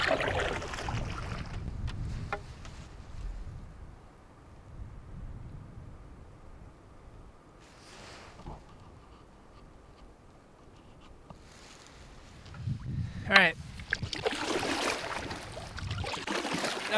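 Canoe paddled on a calm stretch of the Cloquet River in a state forest, soft paddle strokes and water swishes against the hull, quiet stretches between bursts of splashing and wind buffeting the microphone.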